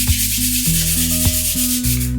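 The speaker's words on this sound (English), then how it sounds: "I found a few pieces of sandpaper, so I'm just going to kind of rough it up" Sandpaper rubbed by hand across painted bedroom furniture trim to rough up the surface, giving steady scratchy back-and-forth strokes with a few sharper pauses; music plays underneath throughout.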